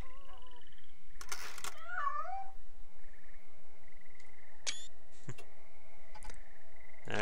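A cat in the video game On the Rain-Slick Precipice of Darkness gives a couple of short, wavering meows early on, followed by sparse clicks and chirps over a quiet background.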